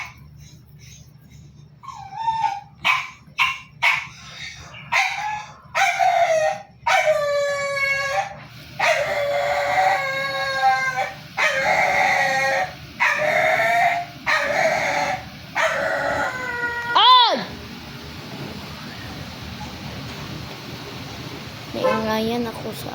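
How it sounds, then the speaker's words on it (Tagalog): A dog barks and howls repeatedly, loud and close, in short yelping bursts that stretch into a long howl, with background noise between. "Naingayan ako sa aso."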